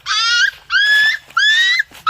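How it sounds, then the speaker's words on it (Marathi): Dog puppies trapped at the bottom of a well give loud, drawn-out whimpering cries, three long rising whines with short gaps, close and clear. "पिल्ले आहेत कुत्र्याचे, त्याच्यात पडून पडले होते खाली"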